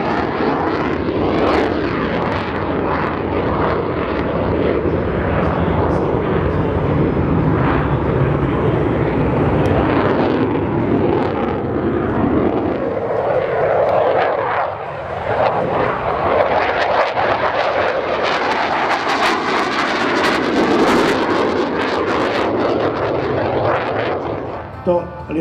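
A Saab JAS 39 Gripen fighter jet of the Hungarian Air Force flying a display at the SIAF 2021 air show, a loud continuous jet roar that swells and fades over the whole stretch, with crowd voices faintly underneath.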